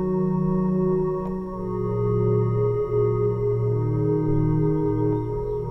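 Synth played through a Strymon Volante echo pedal with the spring reverb turned down, sustained layered tones with gliding pitch shifts and a spacious, smooth echo tail, steady and alone.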